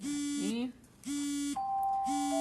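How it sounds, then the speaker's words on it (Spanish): A medication reminder alarm sounds in a room, electronic beeps repeating in three long tonal bursts with short gaps between, fairly loud and clear. "eso es la alarma de la pastilla"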